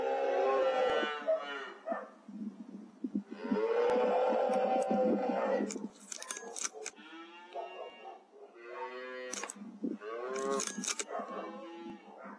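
Cattle on a farm moo loudly and repeatedly, several long drawn-out calls from close by with short pauses between them, no talking heard.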